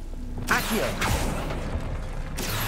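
A summoning spell is cast in Hogwarts Legacy, heard as repeated whooshing, creaking magical bursts with a mechanical rattle under a steady game-ambience bed, one near the start, another at one second, and a third near the end.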